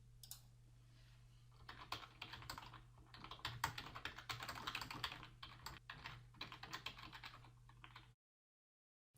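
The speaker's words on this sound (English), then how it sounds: "And try typing some text into the text box." Rapid clicking of keys on a computer keyboard, typed in quick irregular bursts over a low steady hum, then sudden silence.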